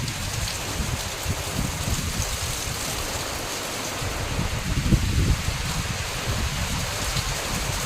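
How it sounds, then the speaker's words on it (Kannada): A loud, steady downpour hisses without letup in strong wind, with occasional low gusty rumbles swelling beneath the rain. "ಮಳೆ ನೋಡಿ ತುಂಬಾ ಜೋರಾಗಿ ಸ್ಟಾರ್ಟ್ ಆಯಿತು"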